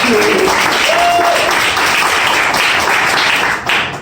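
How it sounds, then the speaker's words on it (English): At a magic and comedy show, a live audience applauds a volunteer joining the stage with loud, dense clapping that carries on steadily, then briefly dips near the end. "Big round of applause."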